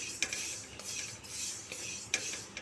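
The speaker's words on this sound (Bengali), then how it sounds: "একেবারে লো ফ্লেমে রেখে আমি তিলটাকে ভেজে নিচ্ছি হালকা।" Sesame seeds lightly fried over a very low flame, stirred in a pan with a soft steady rasping hiss and a few louder utensil scrapes, close and fairly quiet.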